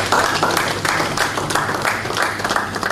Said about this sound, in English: That too deserves a round of applause